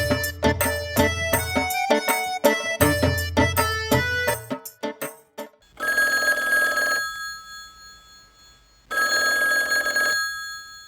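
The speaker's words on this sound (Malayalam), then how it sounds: "മിനിമോളെ ഇപ്പം വിളിച്ചാൽ അവൾ എടുക്കത്തില്ല" A telephone bell rings in a stage drama, a loud burst of rapid repeated rings followed by two longer sustained ringing tones with a short silent gap between them, with no voices over it.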